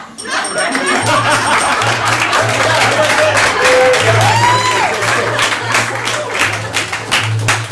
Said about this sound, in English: that applause you just gave them